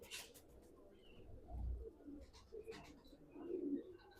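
A Hubba pigeon gives a few soft, low coos, faint and fairly close in an otherwise quiet setting.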